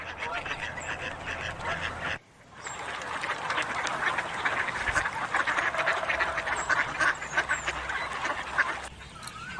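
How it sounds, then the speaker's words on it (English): A duck quacks in a rapid, busy stream, loud and close, with a brief break near the start and steady noisy calling afterward. "duck."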